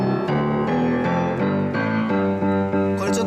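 A used Yamaha W101 upright piano sounds a series of low bass notes, struck one after another at a steady pace, each ringing with rich harmonics before the next, played alone and close.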